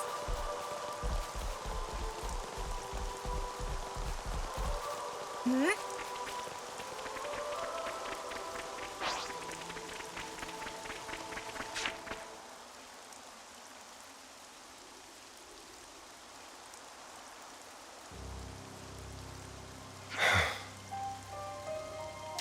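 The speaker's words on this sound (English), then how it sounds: "Rain. I hope it won't slow us down" Steady rain falls in the Xenoblade Chronicles 3 game world, a continuous hiss of drops with no voices over it, joined by a few brief brighter swishes and a short burst near the end.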